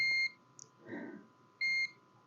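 Two steady electronic beeps from a multimeter continuity test on a mobile phone circuit board, each about a quarter second, with a short gap between, loud and close over a faint hum.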